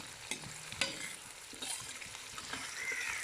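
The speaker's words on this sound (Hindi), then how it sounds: "अब हम इसमें ये हरी मिर्च ऐड करेंगे, तो उसको तकरीबन 1 मिनट तक फ्राई करेंगे।" Green chillies fry with onions that are turning brown in a pan for pulao, giving a soft, steady sizzle with a few light stirring scrapes, alone and fairly quiet.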